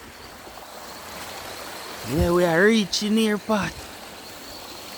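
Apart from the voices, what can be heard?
jungle river stream flowing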